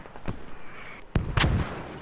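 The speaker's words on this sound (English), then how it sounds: "mortars are coming in on the old position" Mortar shells burst in a military video game, giving three distinct explosions: a sharp blast, then two heavier booms close together with a rumbling tail, heard fairly near.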